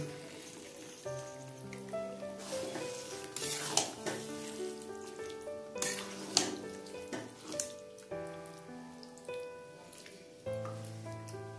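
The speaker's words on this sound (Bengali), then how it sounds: "এবার মাটনটাকে ভালো করে কষিয়ে নেব।" Mutton being fried and stirred in a pan for curry: a steady sizzle broken by several sharp stirring scrapes, with tuneful background tones running throughout.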